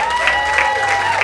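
An audience at a live comedy gong show claps steadily through a short burst of applause, with the sound coming from a crowd at some distance.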